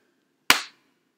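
One crisp hand clap by a woman snaps out close and loud, with a short decaying tail and silence around it.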